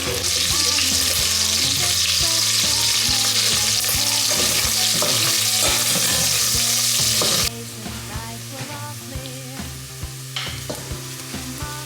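Chicken and potato frying in a pan at home, a loud, continuous sizzle with repeated scraping and stirring clatter that drops abruptly to a quieter bubbling partway through.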